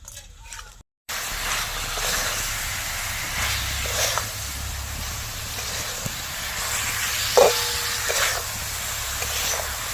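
Fried cauliflower pieces tipped into sauce in a hot pan for restaurant-style cauliflower 65, giving a steady sizzling hiss throughout with a few brief scraping clinks, after a short silent gap at the start.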